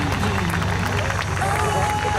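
A crowd at the Pontoise air show applauds two parachutists: a dense, steady wash of clapping with crowd babble mixed in, loud and continuous throughout.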